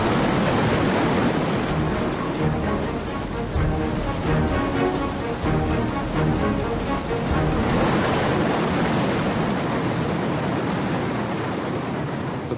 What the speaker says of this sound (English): Traveling hundreds of kilometers upriver, the Amazon's tidal bore scours the banks of its tributaries